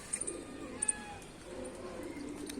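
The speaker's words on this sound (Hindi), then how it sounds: "ये देखो कबूतर" Pigeons cooing on a rooftop, soft low murmuring coos at a moderate distance, with a few faint higher chirps early on.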